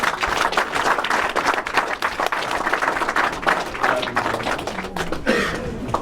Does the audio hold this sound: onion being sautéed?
no